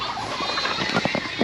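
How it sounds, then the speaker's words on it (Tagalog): Chickens and ducks on a farm being fed, clucking and squawking busily with pattering movement, close and continuous. "nagpapakain na ng mga manok"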